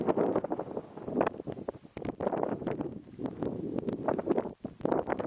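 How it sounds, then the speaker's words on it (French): Wind gusting across a mountainside near rocks in a video game, a steady broadband roar that swells and dips in loud waves with rustling bursts throughout. "Là, par contre, il y a vraiment du vent. Je vous assure que là, ça souffle."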